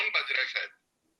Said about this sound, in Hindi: आपका फोन बज रहा है शायद।